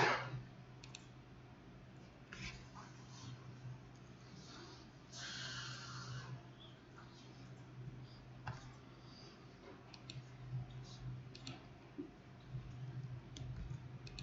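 Mouse clicks press a purchase button on an online store page, faint scattered single clicks at irregular intervals beneath people talking in Korean.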